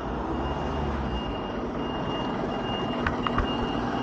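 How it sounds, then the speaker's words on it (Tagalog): A Scania truck reverses with a few sharp electronic beeps near the end, over a steady engine rumble and outdoor background noise. "Scania na truck."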